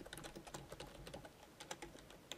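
Fast, quiet typing on a computer keyboard, a dense run of light key clicks heard close with no voice over them.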